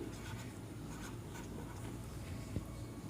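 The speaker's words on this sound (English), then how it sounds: "Let's write it down." Handwriting during a Class VII English lesson: a steady, soft scratching of pen on paper that continues throughout with no speech.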